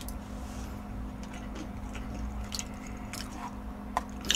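Someone chews fried sweet and sour pork that has gone soft rather than crispy, wet squishy bites close to the mic with a few brief crunches near the end over a steady low hum.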